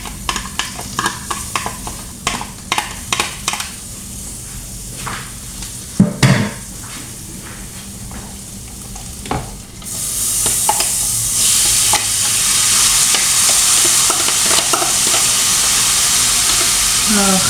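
Oil sizzling in a pan while cooking chirbuli, burned and smoking hot. Clattering stirring and scraping come first, then a loud, steady, hissing sizzle takes over and fills the second half.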